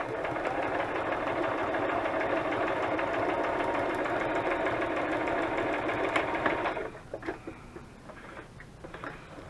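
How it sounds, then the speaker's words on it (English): A sewing machine runs steadily with a rapid mechanical whir for several seconds, then stops, leaving a few faint clicks and handling noises. "I do love the sewing machine."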